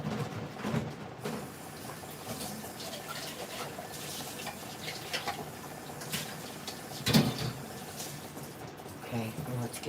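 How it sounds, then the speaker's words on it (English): A kitchen tap runs steadily while hands are washed beneath it, a continuous watery hiss with small splashes and clinks, close and fairly quiet throughout. "now let me wash my hands"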